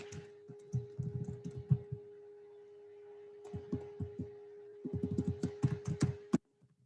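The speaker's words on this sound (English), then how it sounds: "Let's type it up." Computer keyboard typing in a classroom setting, bursts of soft clicking keystrokes separated by pauses, fairly close over a steady electrical hum.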